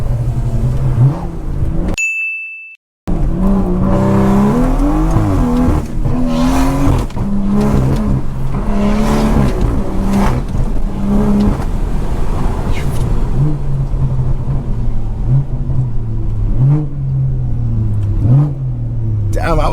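A blacked-out BMW 340i with a B58 engine idles and revs during a late-night drive, its deep rumble rising and falling through repeated throttle blips, broken by a brief dropout and a high electronic chime.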